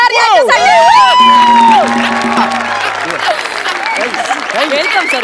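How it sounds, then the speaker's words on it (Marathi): Audience at a Marathi comedy show claps and cheers for a guest, with loud whoops and shouts over a dense wash of applause. Music and a voice ring out at the start before the clapping carries on. "एकदा जोरदार टाळ्या झाल्या पाहिजे ओंकार भोजने सर यांच्यासाठी."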